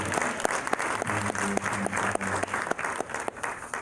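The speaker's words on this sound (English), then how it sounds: "Give our graduates another big round of applause." A church congregation applauds graduates steadily, many hands clapping together in a sustained, fairly loud burst with no voices over it.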